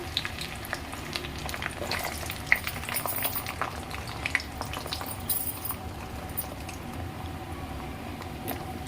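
Brinjal and drumstick pieces sizzling and crackling in hot oil, a busy continuous frying hiss with occasional pops and stirring, no voices.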